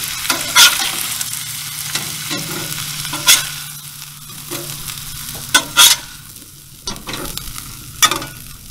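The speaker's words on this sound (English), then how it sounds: "while our steaks are cooking" Steaks sear on a Blackstone 22-inch griddle at a campsite, a steady close sizzle with several sharp bursts of louder crackle and scraping clatter, no voices.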